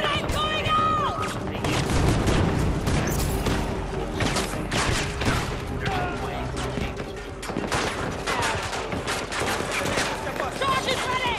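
Battlefield 2042 combat: rapid bursts of automatic rifle fire and booming blasts including a grenade explosion, loud and dense throughout, with soldiers' voices shouting over the fighting.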